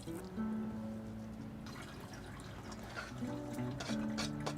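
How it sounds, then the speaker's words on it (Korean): Salted radish and carrot being pressed and drained of their liquid, giving faint, close dripping and trickling water with soft handling noises in a quiet kitchen. "무하고 당근 절여놓은 걸 물기를 쫙 빼도록 할게요"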